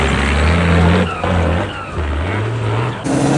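An off-road rally truck's engine at a Polish truck rally growls loud and close, revving up and down in heavy surges with a brief dip and shifting pitch.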